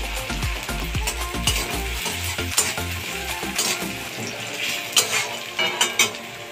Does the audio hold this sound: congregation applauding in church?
no